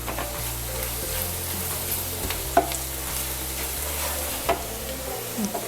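Curry leaves drop into a frying pan of spiced masala with chili powder and garam masala, giving a steady close sizzle broken by scraping stirs and a few sharp pops.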